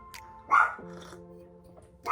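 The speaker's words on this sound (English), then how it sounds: "So that's my dog, Blanco. He's a Chihuahua." A pet Chihuahua named Blanco gives a single sharp bark near the mic in a home, followed by a quiet whine or whimper and a faint second yip at the end.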